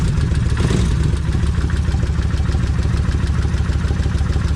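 A Kawasaki Vulcan 1600 motorcycle engine idles steadily up close while warming up, a low, even chugging rumble with a faint metallic clatter, no voices.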